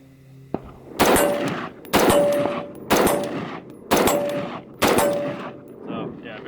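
Five sharp shots from an AR-style rifle built on a billet receiver, fired at an even pace about one per second, each loud crack followed by a ringing metallic tail and echo, with no talking.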